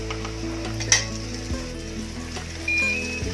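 Chilli chicken with rice frying in a pan, a steady close sizzle with a brief clink and stirring scrape partway through, no voices.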